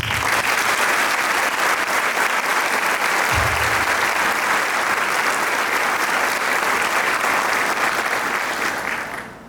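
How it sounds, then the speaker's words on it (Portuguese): A large audience at a book launch applauds in a long, dense, steady roar of clapping that stays loud for nearly ten seconds before fading slightly at the close. "a pedido do professor Armando, a quem eu peço novamente uma salva de palmas."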